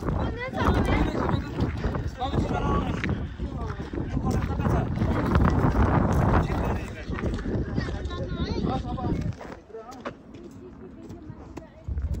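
Strong wind at Dhumba Lake roars loudly and continuously across the microphone, buffeting and rumbling, then eases near the end, with voices faintly mixed beneath the gusts.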